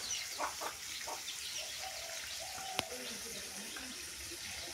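Chickens and chicks wandering around a rural home yard on a clear day, with soft scattered clucks and faint peeps over steady background hiss and a brief sharp click, fairly distant and low in level.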